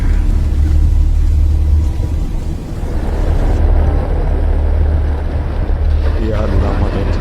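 A car drives along with a low, steady engine rumble and road noise, with wind buffeting heard throughout and no pause.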